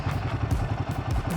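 Royal Enfield Himalayan 450 motorcycle engine during gear shifting, a loud close throbbing rumble with a pulsing, uneven beat throughout.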